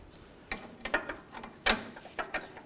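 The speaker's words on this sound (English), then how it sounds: "And torque these bolts to 73 foot-pounds." A ratchet wrench torques cross member bolts on a 2000-06 Chevy Tahoe during an oil pump replacement, giving several sharp, irregular metallic clicks and ratcheting snaps up close against a quiet background.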